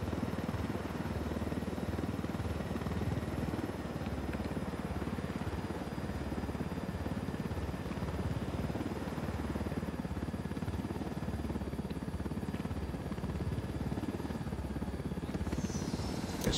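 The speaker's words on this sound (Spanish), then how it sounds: "No hay nada como llevarse un helicóptero para encarar el día" A helicopter flies in the video game Ghost Recon Wildlands, a steady loud rotor drone with a low rumble that holds throughout without pause, and no voices are heard.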